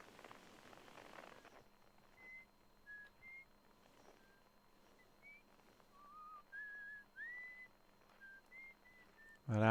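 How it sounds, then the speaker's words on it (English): Faint, scattered whistling tones drift from an asteroid in the video game Outer Wilds, short rising and falling pitches spaced irregularly over a quiet hiss, with one brief louder burst at the end. "That asteroid's whistling."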